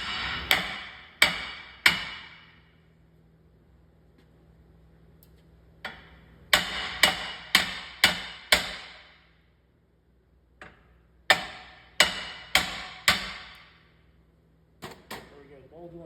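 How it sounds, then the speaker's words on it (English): Sharp metallic hammer blows strike the pinch bolt area of a Nissan Rogue front lower ball joint, ringing out in quick bursts of three to five strikes, separated by short pauses, loud and close. "Normally all you have to do is hit this with a hammer and the ball joint will come out."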